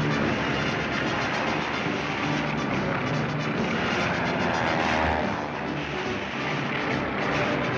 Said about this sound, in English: During maneuvers, pursuit planes engage each other in aerial games.